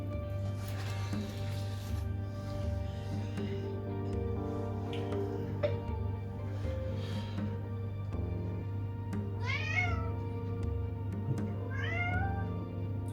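A cat meows a few times, short rising cries around the middle and end, over a steady low hum and faint rustling during a tabletop terrain crafting session.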